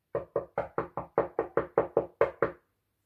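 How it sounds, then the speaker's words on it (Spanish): Someone knocks on a door in a story scene. Eleven crisp, evenly spaced raps sound close and loud, then silence follows. "cuando de repente alguien llamó a la puerta"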